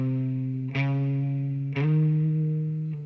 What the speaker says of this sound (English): I kick on just a tiny bit of reverb